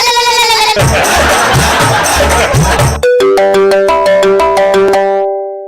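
A loud, repeating electronic ringtone melody plays with a busy buzzing texture, then switches to a cleaner chiming tune that fades out.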